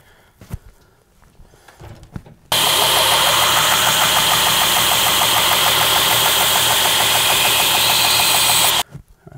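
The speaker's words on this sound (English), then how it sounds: "while I'm at the grinder" Belt grinder fitted with a 120 grit belt switches on abruptly and runs loud and steady for about six seconds, a harsh broadband whir during knife making, then cuts off sharply.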